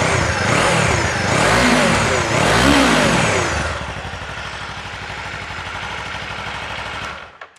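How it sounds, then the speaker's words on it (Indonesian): Two deep, bassy throttle blips surge and fall from a 2024 Kawasaki Eliminator 500cc motorcycle exhaust, loud and close, before the engine settles back to a steady burbling idle and cuts off. "Jadi ya, suara knalpotnya ngebas banget ya."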